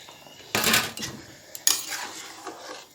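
Pieces of fried gonna fish being added to a pan of potatoes simmering in spiced water, giving two distinct clattering bursts of metal and food against the pan with light rattling after each.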